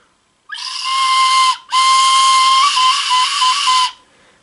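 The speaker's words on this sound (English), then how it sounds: "So here's the whistle. And it actually works." Folded origami paper whistle (Pito Que Pita design) blown in two loud, steady, shrill tones with bright overtones, a brief gap between a short first blast and a longer second one, heard alone without talk.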